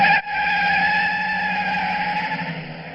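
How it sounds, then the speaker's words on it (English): Tires of a car screech loudly and continuously as it pulls out of a driveway. A brief dip comes near the start, then the sustained squeal holds steady and close, easing slightly toward the end, with no voices. "we have the sound of a car screeching out of a driveway"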